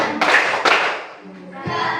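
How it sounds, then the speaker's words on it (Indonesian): A few sharp hand claps sound close by, with a short pause between them and some soft thuds after. "Bertepuk tangan"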